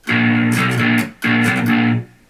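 An electric guitar with heavy distortion plays the riff from a song. Two loud, sustained chord bursts are separated by a brief gap, with no talking.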